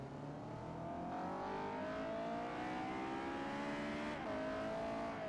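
A car engine in Forza Motorsport 4 revs up through its range into VTEC, a rising, steady engine tone climbing in pitch, dipping briefly at a shift near the end, then carrying on, moderately loud and alone.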